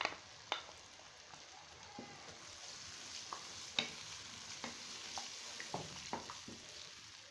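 Spiced yogurt being stirred into a Kashmiri dum aloo potato curry in a pan, a steady soft sizzle broken by scattered light scrapes and taps of the spoon, close up with no speech.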